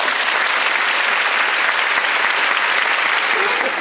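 Dense, steady applause from a large theater audience fills the hall at the closing-night curtain call of the musical 'Beautiful', loud and continuous throughout with no break.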